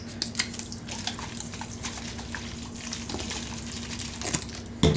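A spoon stirs dyed rice in a bowl, producing a steady, close-up granular rustling and scraping with a few sharper clinks, ending in a louder knock.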